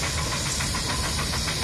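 A steam engine at a heavy haulage show runs close by with a loud, continuous hissing chuff and faint rhythmic beats under the steam noise.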